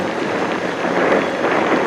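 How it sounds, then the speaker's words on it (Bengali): Cold wind blows across Chimbuk hill in Bandarban, facing banks of cloud, rushing as a loud, steady broadband roar against the microphone for the whole moment, with no talk. "মাথায় না খুব ঠান্ডা হাওয়া"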